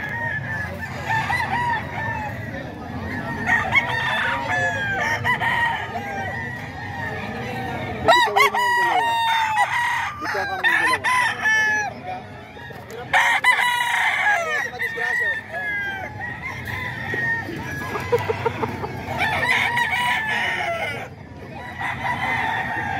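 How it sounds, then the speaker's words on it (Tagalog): Several roosters crow repeatedly amid clucking chickens at Bocaue, a busy farmyard chorus with overlapping calls at varying distances and some faint voices in the background. "Ayan, mga manok ni Boss Eric"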